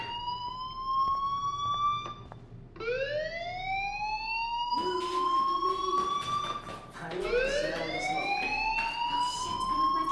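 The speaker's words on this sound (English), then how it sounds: "do you hear that fire alarm?" Rising and falling electronic alarm wails repeatedly in the video game Life is Strange, a fire alarm sweeping up in pitch several times, loud and close with faint background noise between sweeps.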